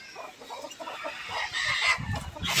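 Desi hens cluck and call together inside a village poultry shed, a busy, irregular chorus of clucks at moderate loudness with rustling and shuffling underneath and no talking.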